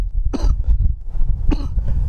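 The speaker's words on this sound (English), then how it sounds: "Sorry about my cough." Two sharp, close coughs, about a second apart, from a person fishing for trout, with low rumbling background noise between them.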